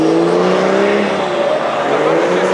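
Yamaha TMAX scooter pulling away, its engine note rising in pitch as it accelerates and stays loud and close, with a rough road-noise hiss throughout.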